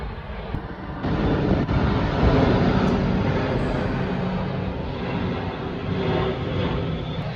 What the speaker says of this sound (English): every 30 minutes or so we got an airplane flying over